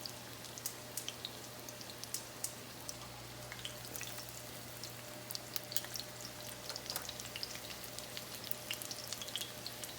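Chicken cutlets frying in a pan, a faint, steady sizzle with scattered crackles and pops throughout, close and alone with no talk.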